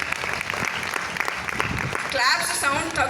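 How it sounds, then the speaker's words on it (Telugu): An engineering college audience gives a round of applause for the teachers, dense clapping under a speaker's amplified voice that swells louder toward the end. "Great round of applause for all the teachers here."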